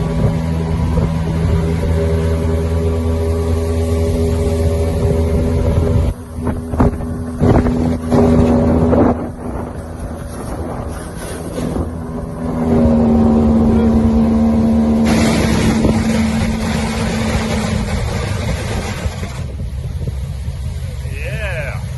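A motorboat engine on the Bowron River drones steadily up close with wind buffeting the microphone; the engine pitch shifts midway and rises again later.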